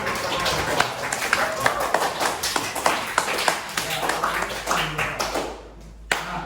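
Junior high school students clap their hands in a classroom, a lively, continuous patter of many hands with uneven sharp accents, close by and mixed with voices.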